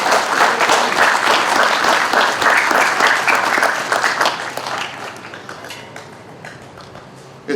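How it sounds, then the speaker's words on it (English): A crowd at a Veterans Day community event in Buckhannon, West Virginia claps loudly and densely, then the applause gradually thins into scattered claps and fades out near the end. "So can we please give them a round of applause?"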